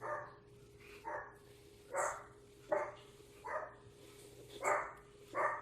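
Indoors, a dog lets out a string of about seven separate barks at an irregular, unhurried pace, moderately close, with a low steady hum underneath and no talking.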